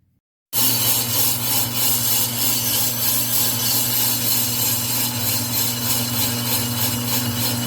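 Steady, loud abrasive grinding while cleaning the brake drums of a Jeep XJ, a continuous rough whirring with a strong low hum that runs unbroken after a brief silent start.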